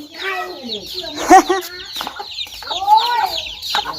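A chicken clucks close by in a rural Thai yard, a few sharp clucks and squawks in uneven bursts while people talk nearby.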